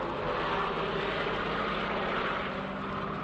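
Aircraft engine drone from a circling plane in a radio drama, a steady broadband roar held at even loudness throughout, with no voices over it.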